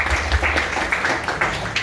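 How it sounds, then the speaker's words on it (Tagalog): An audience at an event applauds in a brief, dense patter of many hands clapping together, steady and moderately loud throughout. "Palakpak!"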